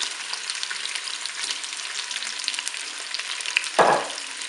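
Potatoes fry in a Cookeo pot with a constant crackling sizzle, and near the end a sharp metallic clank from the pot or utensil cuts through.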